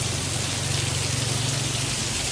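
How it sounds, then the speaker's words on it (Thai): Heavy rain pours down in big drops during an outdoor photo outing, a dense, steady hiss of water with no gaps and no voices. "แต่ว่าฝนตก"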